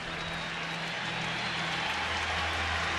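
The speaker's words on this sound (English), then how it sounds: "Gets a big ovation from the crowd." A baseball stadium crowd gives a pitcher a big ovation, a dense, sustained roar of applause and cheering filling the whole stretch at even loudness, with no distinct voices standing out.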